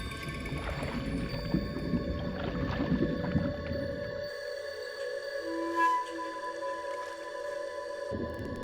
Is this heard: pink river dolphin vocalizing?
yes